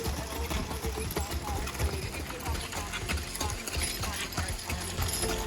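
Horses pull a carriage along a gravel carriage road in Acadia National Park, their hooves clip-clopping in a rapid steady rhythm with wheel and harness rattle under continuous talking.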